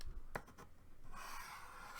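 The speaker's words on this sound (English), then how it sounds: "And then we're going to score across this line." Paper being scored on a We R Memory Keepers Slimline Punchboard gives a quiet, close scraping scratch along a track, with a couple of sharp clicks at the start and end.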